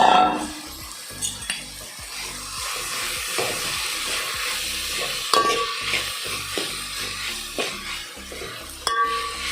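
Finely chopped greens sizzle in a pan for Goan aakur tonak while a spoon stirs and scrapes repeatedly, with clinks of metal on the pan over steady frying.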